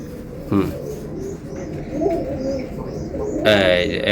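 Budapest pigeons coo repeatedly in soft, throaty bursts close by, while someone talks over them and a few sharp clatters break in.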